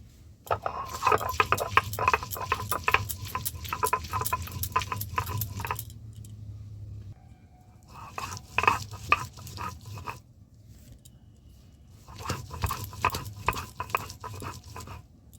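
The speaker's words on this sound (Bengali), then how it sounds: "আমি শিলের মধ্যে আদা রসুন আর পেঁয়াজটা দিয়ে দিয়েছি, আমি এগুলো বেটে নেব একসঙ্গে।" Ginger, garlic and onion being ground on a stone slab, bursts of rhythmic rubbing and scraping strokes in three separate spells with quiet pauses between them, close by.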